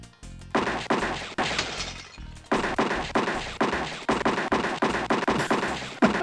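Gunshots fired at targets in the Freddy Pharkas video game, a rapid, loud series of sharp retro shot sounds in steady rhythm, one after another with brief pauses, nearly continuous throughout.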